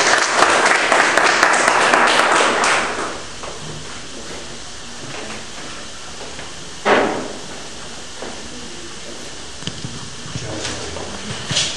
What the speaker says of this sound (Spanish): Por favor, recibamos con un fuerte aplauso